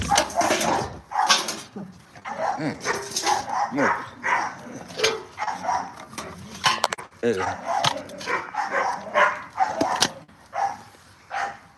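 A small bandog barks and whimpers in short bursts close by, mixed with someone talking to it throughout.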